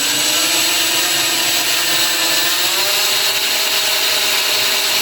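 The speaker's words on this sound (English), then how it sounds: "I can kind of get it to where I want just by moving the drill bit around" A power drill whines steadily at high speed while drilling slowly into a small 1/6-scale Predator sculpture, close and continuous, with no talking.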